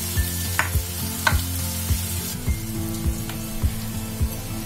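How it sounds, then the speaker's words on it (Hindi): Steady sizzling and crackling of boiled potatoes and onions frying in a pan, with occasional scraping knocks of a spoon stirring, close and continuous with no voices. "आलू को भी थोड़ी देर फ्राई करूंगी"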